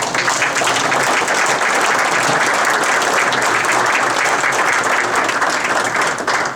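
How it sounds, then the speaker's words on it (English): A large dinner audience applauds at an Iowa Golf Hall of Fame induction banquet, a loud, dense, steady wash of many hands clapping that fills the whole stretch without a break. "let's give them a round of applause"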